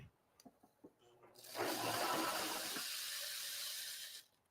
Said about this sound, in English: Now we're going to pour in the rice.